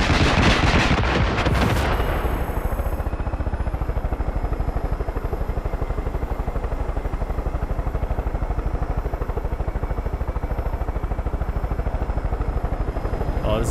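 Helicopter rocket barrage in the Far Cry 5 video game, a sharp burst of launches up front giving way to a steady, loud rotor-like drone with rapid rhythmic pulsing that runs throughout.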